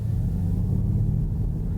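Ford Mustang Mach-E electric car pulling away from a standstill, a steady low rumble of tyres and road noise heard from inside the cabin, brief and even, with no voices.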